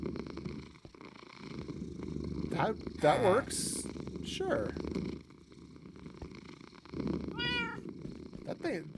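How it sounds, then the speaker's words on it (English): A domestic cat asleep on a pillow purrs loudly in a steady, deep rumbling rhythm close by, with people talking over it. "He's asleep! No wonder he's purring so loud."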